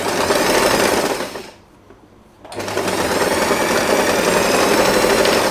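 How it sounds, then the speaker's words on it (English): A sewing machine runs a straight line of stitching on fabric, a loud close rapid mechanical whir that pauses briefly about a third of the way through, then resumes steadily. "I will sew a straight line."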